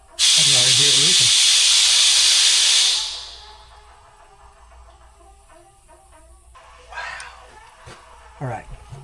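Air rushes out of a leaking pontoon on a Sun Tracker fishing or party barge in a loud, steady hiss that lasts about three seconds and then cuts off, followed by quieter handling noises and brief voices.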